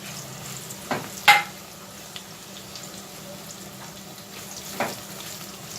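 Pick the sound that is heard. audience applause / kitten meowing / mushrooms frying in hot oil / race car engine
mushrooms frying in hot oil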